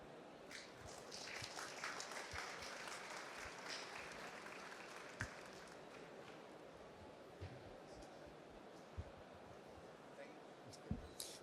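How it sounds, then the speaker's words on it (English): Conference audience applause fills the hall as a steady, moderately faint wash of clapping that lasts throughout, with a few sharper individual claps standing out. "Give a round of applause"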